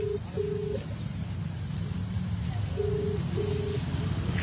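A phone call being dialed, with a few soft tones in two brief pairs, faint beneath a steady hum of outdoor street background.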